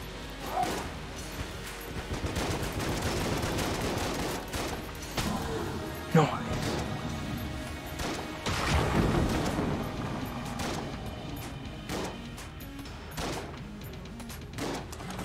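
Shotgun blasts in Enter the Gungeon during a fight with a dragon boss: repeated sharp gunfire bursts and crashes spread across the stretch, some louder thumps among busy game noise, with a voice talking at times.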